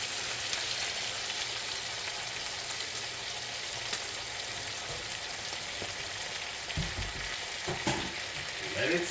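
A bone-in ham steak sizzles in a hot pan with its juices, a dense, even crackle of frying that holds steady throughout, with a few soft clanks near the end.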